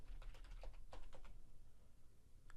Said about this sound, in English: I'll just enter my password.